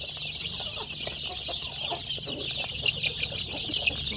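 A flock of 10-day-old Noi chicks at a chicken farm in Can Tho, peeping and cheeping continuously in a dense, high-pitched chorus, close and alone.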